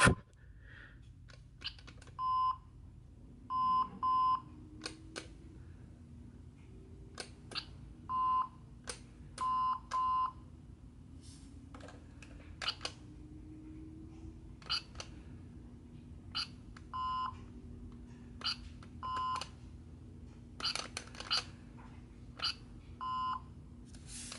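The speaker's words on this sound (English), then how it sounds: "Hasbro has these funny things when they die. They just beep." Repeated short electronic beeps from a Hasbro Star Wars BladeBuilders Rey toy lightsaber with dying batteries, in bursts, fairly loud and evenly spaced, over a quiet background hum.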